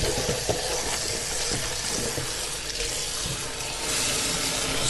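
Tap water runs steadily into a sink as lettuce is washed, a constant close splashing hiss with no talking.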